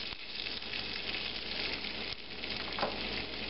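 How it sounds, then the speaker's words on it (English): Potatoes sizzling steadily in hot bacon grease as they are stirred and tumbled in the pan, a dense, close frying hiss with a few scraping stirs, no talking. "And tumble them in the bacon grease."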